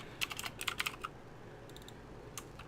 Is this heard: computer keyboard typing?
yes